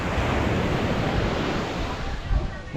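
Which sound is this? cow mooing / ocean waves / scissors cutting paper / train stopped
ocean waves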